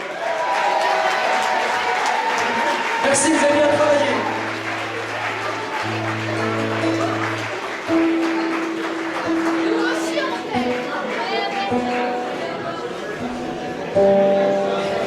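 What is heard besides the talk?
audience applause for departing performers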